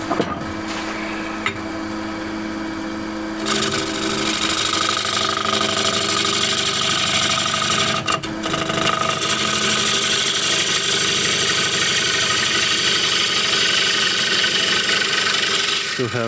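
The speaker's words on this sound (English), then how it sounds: "And I'll do that the best with spindle gouge." A wood lathe spins a tray blank while a spindle gouge flattens the surface, a loud steady motor hum with scraping cutting noise that briefly dips and resumes, lasting throughout.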